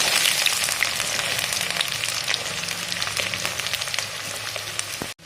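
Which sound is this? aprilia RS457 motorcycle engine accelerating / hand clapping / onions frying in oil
onions frying in oil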